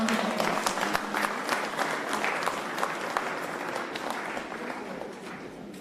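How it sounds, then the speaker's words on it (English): An audience at a Doha event applauds the vice chairman of the Qatar Chamber of Commerce and Industry with steady, dense clapping from a crowd. It holds at moderate level throughout and tapers slightly at the end. "Please give him a round of applause."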